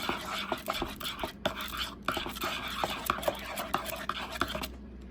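Tiny magenta potion beads being stirred and mixed in a container, giving a busy run of quick light clicks and rattles at close range that thins out near the end, with no talk.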